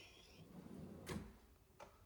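A deep kitchen drawer in a large Lowcountry home slides open or shut with a soft, muffled rumble near the middle, followed by a brief fainter knock, close by and quiet.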